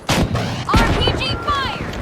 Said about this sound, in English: RPG fire!